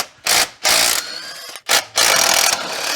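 A ratchet wrench loosening cylinder head bolts on an LS (L96) engine: several loud, close bursts of rapid clicking, short and long strokes separated by brief pauses.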